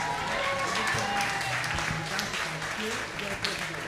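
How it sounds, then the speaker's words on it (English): An outdoor crowd at a UNICEF Wall of Promise unveiling in Barbados for World Children's Day gives a sustained round of applause, full and continuous, with voices and some background music mixed in. "Please give all of those a big round of applause."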